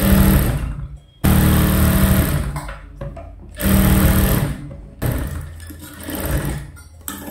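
A sewing machine stitches a princess cut blouse in bursts: loud, fast mechanical whirring runs broken by brief pauses, close by and steady, with no voices.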